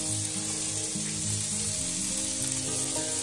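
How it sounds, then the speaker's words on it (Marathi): Prawns wrapped in turmeric leaves frying in a pan, giving a dense, constant sizzle that stays loud and even throughout with no voices. "सो आता ती आमी फ्राय करपाक जाय."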